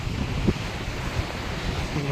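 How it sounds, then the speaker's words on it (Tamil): Rough sea surf pounding a beach, heard as a continuous broad roar of crashing waves mixed with strong wind buffeting the microphone, with no clear speech over it. "அருமையான கடற்கரை, அருமையான இடம். கடல் நல்லா சீற்றமாக இருக்குது பாருங்க."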